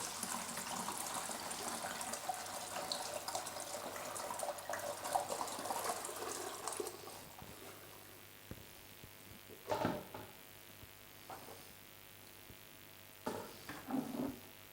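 Double-filtered pig blood is poured gently through a strainer during a pig butchery session, a steady liquid stream that fades after several seconds, leaving a few faint splashes and clinks with no voices.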